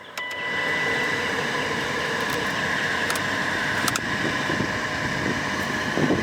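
Air conditioning blower fan in a BMW E34 running steadily inside the car, a constant broadband rushing hum that starts after a brief quiet moment and holds at an even level throughout.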